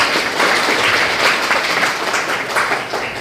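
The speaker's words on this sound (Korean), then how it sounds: "큰 박수 부탁드립니다" Sustained audience applause at a Korean policy forum on school violence, steady and loud throughout, welcoming the host lawmaker's opening address.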